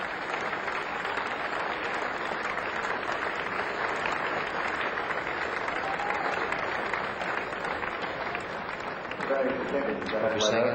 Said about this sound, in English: You're saying out there now, what's that burst of applause for?